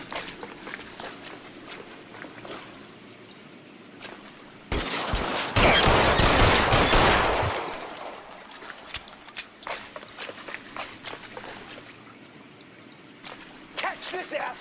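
A burst of video game gunfire in L.A. Noire erupts loudly mid-scene, a dense crackling volley lasting a couple of seconds, with scattered single shots and shouting voices around it.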